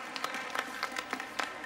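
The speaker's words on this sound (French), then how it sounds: "Ils ont mis des bruitages d'applaudissements d'une grande salle de spectacle," Muffled applause effect evoking a large theatre hall, a soft steady patter of many hands with faint claps standing out, held at low volume throughout.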